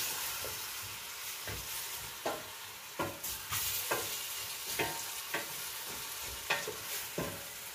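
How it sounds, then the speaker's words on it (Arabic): Food frying in a pan is stirred in regular strokes, each giving a soft scraping knock over a quiet, constant sizzle heard close up. "ونحرك شويه هكذا"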